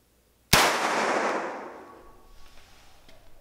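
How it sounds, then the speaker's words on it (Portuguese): A single sharp gunshot from a CMMG 9mm carbine fired at a block of soap: one loud, close crack with a bright onset and a long reverberant tail that fades over about two seconds. "vamos fazer os disparos"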